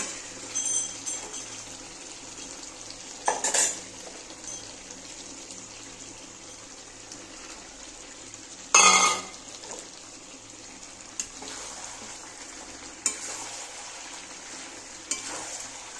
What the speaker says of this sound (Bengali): দেখো চিকেনটা না কষানো হয়ে গেছে, এবার আমি আলুগুলো দিয়ে দেব।